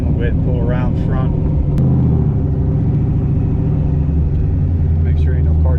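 A 1994 Mustang Cobra engine rumbling steadily as the car pulls around to the front, close and continuous, with someone talking over the idle.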